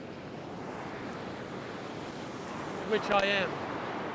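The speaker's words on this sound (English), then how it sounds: "you can see there's a double wave coming for me right now" Surf and waves breaking on an ocean beach with wind buffeting, a steady wash that swells briefly near the end as a wave crashes, while someone speaks a few words close by.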